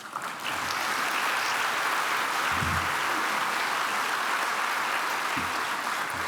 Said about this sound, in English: And that deserves a great round of applause.